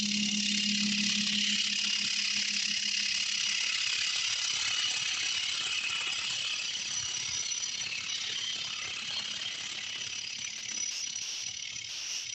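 A tenon is cut on a wooden staved bead box, giving a continuous hissing, whirring cutting noise at steady volume for several seconds with no voices.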